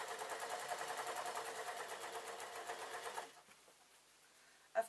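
A sewing machine stitching suit trouser fabric runs in a steady, rapid rhythm for about three seconds, then stops, leaving faint handling sounds and one short knock near the end.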